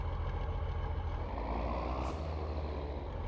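A heavy tractor engine in the video game Farming the Decades, using a custom sound, rumbles steadily at a constant idle, deep and continuous, with a brief hiss of air partway through.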